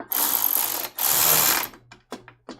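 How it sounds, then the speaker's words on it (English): An electric ratchet tightens a bolt on a Jeep XJ 4.0 engine's intake and exhaust manifold: two sustained close, loud whirring bursts followed by several short clicking pulses. "We're going to use electric ratchet because it's handy."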